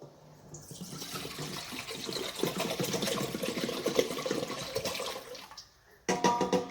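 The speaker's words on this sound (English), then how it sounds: "First, we have to add, of course, water." Tap water runs and splashes into a blender jug as the first step of pizza dough, a steady rushing pour that builds and then stops before a short renewed burst at the end.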